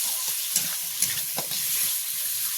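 Fish curry with cut pona fish, tomato, potato, onion, ginger and garlic sautéing in a pan gives off a steady, close sizzle and hiss, with soft stirring scrapes and no talking.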